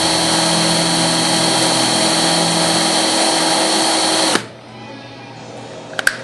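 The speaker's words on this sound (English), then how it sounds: "Now that we're through the gel coat, we'll put the drill into low side and we'll continue to the hole." A power drill bores through a boat's gel coat with a loud steady whine that holds for about four seconds, then cuts off abruptly, leaving quiet room tone and a couple of small clicks.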